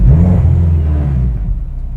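A forced-induction Honda K-series engine running on a dyno, a loud, steady low rumble with harmonic drone that holds for about two seconds and eases slightly toward the end, with no voices.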